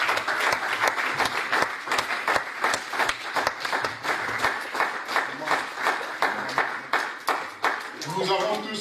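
A church congregation claps and acclaims in a rhythmic, loud burst of unison handclaps, beating steadily in time like a song's pulse, with crowd voices mixed in and a brief tonal sound near the end.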